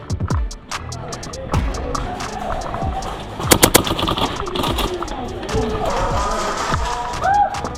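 Airsoft guns fire in sharp, snappy clicks during a game, single shots and quick bursts spread across the clip, with a tight cluster near the middle, while players shout in the background.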